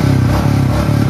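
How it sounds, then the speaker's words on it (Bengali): Royal Enfield Meteor 350 motorcycle, about two years old, idles with a steady low single-cylinder thump, close and loud, the beat pulsing evenly with no voices over it. "এটা হচ্ছে গিয়ে ইঞ্জিন সাউন্ড"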